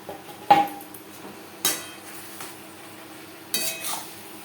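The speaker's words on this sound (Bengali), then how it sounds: "দিয়ে দেবো টুকরো করে কেটে রাখা ধুনুল" Chopped ridge gourd goes into a cooking pan of fried spices, heard as three close, sharp clattering bursts of metal clinks and utensil knocks with quiet sizzling between them.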